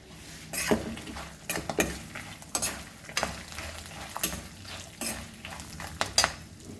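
Rice tipped into a pan and stirred for lemon rice, with a soft sizzle under repeated scraping strokes of a spoon against the pan and an occasional light clink.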